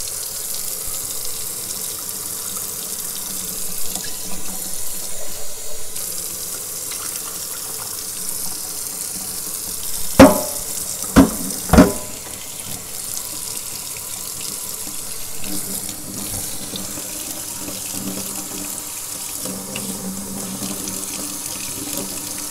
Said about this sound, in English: we're just going to run them under some water, rinse them off